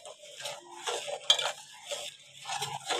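Sugar stirred into rice kheer with a spoon in a pot, a run of soft scraping strokes and light metallic clinks at close range, steady and quiet with no talking.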